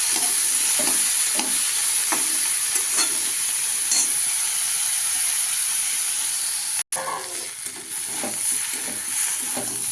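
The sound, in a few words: stirring spice masala frying in a pan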